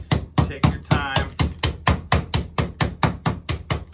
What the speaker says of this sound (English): Okay, so listen, I'm pounding them out like that.